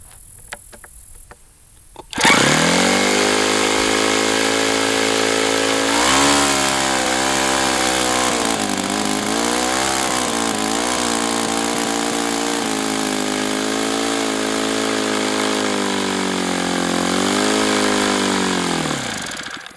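A model RCV 91CD engine running after a mixture adjustment. It starts abruptly and then holds a loud, close, buzzing whine whose pitch wavers and surges several times before it winds down at the end, with no talk.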